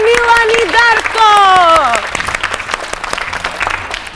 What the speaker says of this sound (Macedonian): А за квиз за екипа Црвени најголем аплауз за Милан и Дарко.